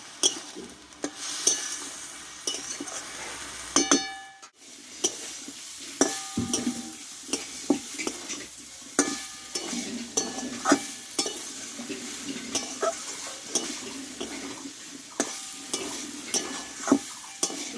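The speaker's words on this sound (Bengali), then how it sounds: "একদম শুকনো শুকনো করে ভালোভাবে কষিয়ে নেব তিন থেকে চার মিনিট মতো আমি মশলাটা ভালোভাবে কষিয়ে নেব একসঙ্গে" Leaf paste with spices is stir-fried dry in a pan, with frequent spatula scrapes and clinks over a low, continuous sizzle and one brief quiet gap early on.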